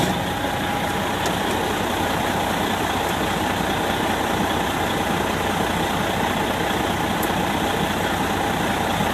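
Fire engine idling in neutral while set up for pumping from draft, a steady loud continuous engine drone with an even hum throughout and no talk.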